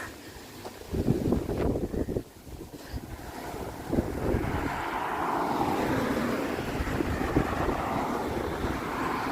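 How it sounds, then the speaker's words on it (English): Gusty wind buffets the microphone outdoors on a walk home, a steady roaring rush with stronger blasts throughout and no voices. "I have the wind at my back, so all my hair is flying forward."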